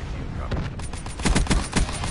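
Pistol gunfire in a multiplayer shooter game, a loud run of rapid close shots that grows into several distinct heavy cracks toward the end.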